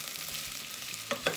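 Onions sizzle and crackle in hot oil as they are stirred, a steady close frying hiss with a couple of sharper clinks near the end.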